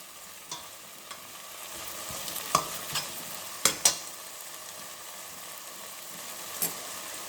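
Red chili powder frying in oil for vegetable upma, a soft steady sizzle with occasional sharp spoon scrapes and taps against the pan, close and quiet.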